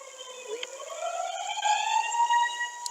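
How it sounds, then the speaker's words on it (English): A fire warning siren in the video game Tornado Siren World, a single steady electronic wail that rises in pitch and holds, with a few faint clicks over it. "In the 1960s, they used a siren to alert people that a fire was nearby."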